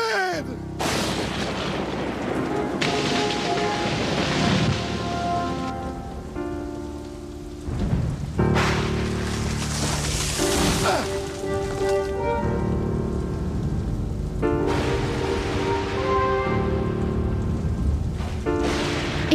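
Heavy rain pours steadily in a film scene, with deep thunder rumbles and cracks rolling in at intervals over a swelling orchestral score; no talk.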